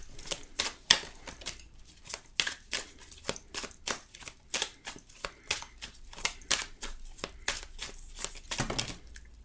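Tarot cards being shuffled and drawn, a steady run of quick, crisp card flicks and snaps close up, with a denser flurry of riffling near the end.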